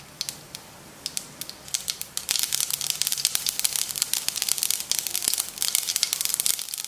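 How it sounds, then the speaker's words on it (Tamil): Mustard seeds burst in hot oil in a pan while a raw banana masala curry is cooked, starting as scattered single pops and building into a dense, rapid crackle. "கடுகு பொரிஞ்சிருச்சு"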